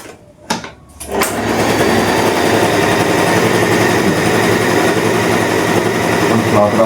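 An Usha Allure DLX sewing machine running a normal stitch, a steady close mechanical whir with rapid needle clatter that starts after a second of quiet and a couple of clicks, then holds loud and even to the end.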